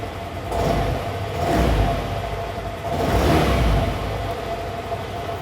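A SYM Fiddle 4 scooter engine runs close by, with a steady idle that swells in two smooth revs of the throttle and then falls back, with no voices.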